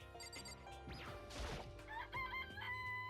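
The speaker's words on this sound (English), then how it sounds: "It's a chicken." A chicken in the game Danganronpa: Trigger Happy Havoc clucks and squawks in short bursts, with a rising crow-like call and a sharp crash in the middle, faint and close over a quiet musical backdrop.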